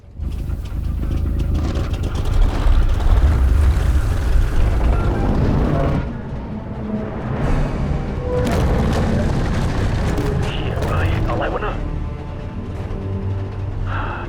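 Heavy booms and rumbling blasts of tank cannon fire in a war film, a loud continuous low roar that eases midway and then carries on with further rumbling impacts.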